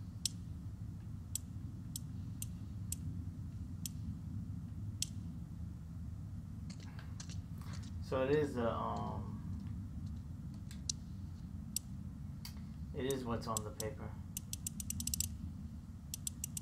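Safe combination dial in The Last of Us Part II, turning with a steady run of faint, crisp clicks over a low hum, with brief louder mechanical scraping and rattling twice midway; a voice speaks briefly.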